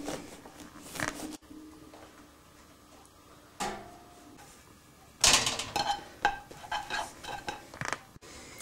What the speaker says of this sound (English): I'm slicing the aubergine fairly thickly